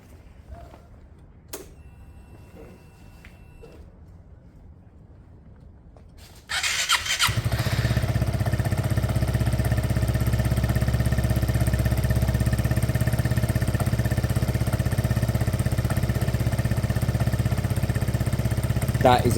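A Piaggio Fly scooter with a freshly swapped engine starts after a few quiet clicks and fires up abruptly, then settles into a loud, steady idle that runs on without revving.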